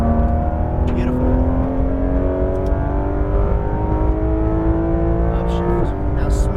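Porsche 911 GT3 RS (991.2) engine pulling hard on track at Exotics Racing Las Vegas, loud and close, rising steadily in pitch, then a quick upshift near the end drops the revs before the climb resumes; an instructor's voice talks over it.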